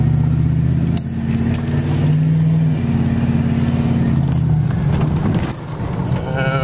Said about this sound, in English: And of course the traffic is pretty much a pain to get around.